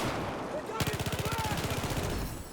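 Hip fire from a gun in a Call of Duty game: after a brief lull, a close, loud burst of rapid automatic shots rattles off in an even, fast rhythm for nearly two seconds.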